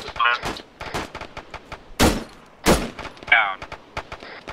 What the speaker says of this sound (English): Definitely shooting at us.